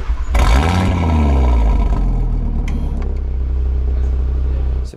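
A tuned Audi RS3 Stage 2 with its 2.5-litre five-cylinder engine rips through a loud, close rev that climbs and falls, then settles into a deep, steady rumbling idle.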